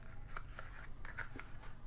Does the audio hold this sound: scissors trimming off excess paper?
yes